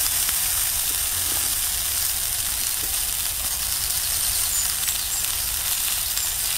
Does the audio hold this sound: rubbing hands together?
no